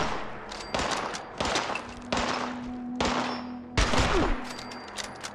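Rapid gunfire bursts in the video game Fallout 76, with repeated volleys of sharp shots and metallic clangs over a low steady hum and faint ambient tones.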